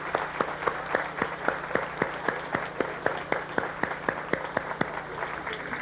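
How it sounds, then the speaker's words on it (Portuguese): A church audience claps for the mothers in a sermon hall, steady rhythmic claps repeating evenly, moderately loud and close, with no talk over them. "Agora eu que aplaudo as mães"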